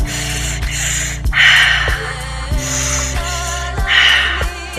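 Quick rhythmic breathwork breaths, forceful inhales and exhales in a fast steady pace, heard close over a continuous layer of soft music.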